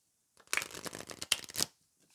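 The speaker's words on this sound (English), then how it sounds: "I'm going to shuffle the cards on camera so you can see me shuffling the cards" Tarot cards are shuffled close up, a dense burst of papery riffling and flicking lasting about a second, with brief sharper snaps, in a quiet room.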